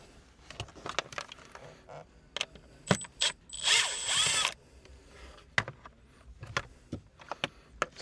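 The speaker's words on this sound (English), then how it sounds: "I'll just unscrew it." A power drill unscrews a screw from a Nissan Z glovebox, giving a short loud whir of about a second amid scattered clicks and handling knocks of the dash trim.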